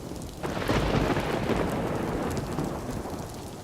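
Steady heavy rain pours across the whole stretch, with low rumbling thunder rolling underneath; no voices, just a dense, continuous storm wash that swells early and holds.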